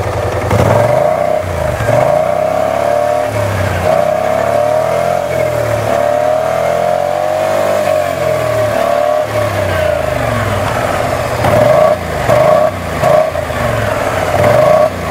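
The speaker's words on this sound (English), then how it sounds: "hear the sound of the Akrapovic. Going to give it some rev." A BMW C600 Sport scooter with an Akrapovic exhaust revving, loud and close, its engine note rising and falling in repeated swells over a steady idle drone.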